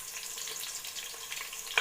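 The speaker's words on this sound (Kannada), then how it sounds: "ಆನಿಯನ್ ಹಾಕಿ ನೀಟಾಗಿ ಫ್ರೈ ಮಾಡ್ಕೊಳ್ಳಿ, ಗೋಲ್ಡನ್ ಬ್ರೌನ್ ಬರೋವರೆಗೂ." Onions frying with masala spices in a pan while cooking donne biryani: a steady close-up hiss and sizzle with faint crackles throughout, and a brief sharper clatter at the very end.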